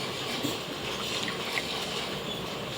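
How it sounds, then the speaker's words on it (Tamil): Water pours steadily into a cooking pot of goat head curry, a continuous rushing hiss with no talking. "கொஞ்சம் தண்ணி ஊற்றிக்கிறேன்"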